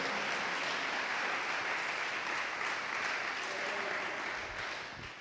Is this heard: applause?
yes